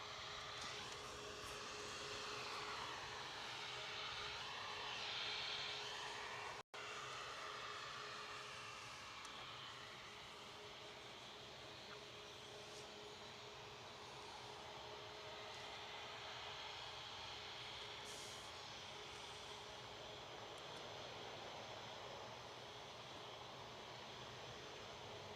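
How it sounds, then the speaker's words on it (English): A steady jet roar with a whining tone drifts in from a distance as an Etihad Boeing 777 spools up its engines during pushback at Manchester Airport, a continuous broadband rush that holds level throughout. "Looks like 777 Etihad's pushback. Hey, Or is pushing back. love that noise of that spool up."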